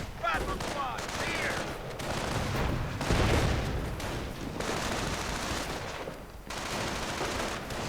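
Game combat from a WWII strategy match: dense, continuous rifle and machine-gun fire rattles throughout, with heavier booming bursts near the middle where a grenade goes off against a rifleman, all loud and close.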